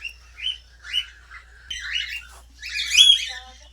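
Pet birds near their clay nesting pots give a series of bright chirps and tweets in short bursts, growing louder and busier toward the end, with no talk over them.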